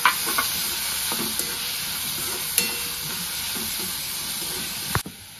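Onion, curry leaves, chopped and grated carrot and tomato fry in a pan for a Marathi drumstick paratha, giving a constant bright sizzle broken by several sharp stirring scrapes and clicks, close up and with no voices.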